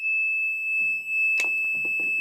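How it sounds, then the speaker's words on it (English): A wastewater pump control panel alarm sounds a continuous, loud, steady electronic tone throughout, with a few faint thumps and rustles underneath. "the alarm goes off, telling you something's wrong"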